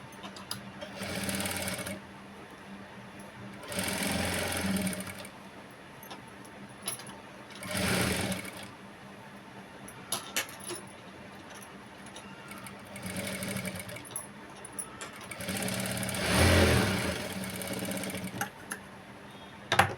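A sewing machine stitches a prince cut blouse in four separate bursts of rapid whirring, each lasting a second or two and separated by quieter pauses with small handling clicks.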